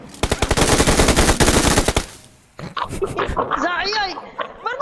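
Rapid automatic gunfire in PUBG Mobile rattles loudly for about two seconds, then cuts out. Voices talk and laugh excitedly over the game's background sounds.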